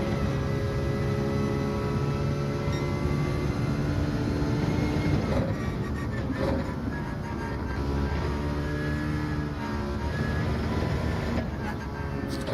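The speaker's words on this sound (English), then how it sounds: "sounds like an electric shaver, this car." A race car's engine in Gran Turismo 7 on the Lago Maggiore circuit holds a continuous buzzing, shaver-like whine with strong harmonic tones, shifting slightly in pitch through the clip.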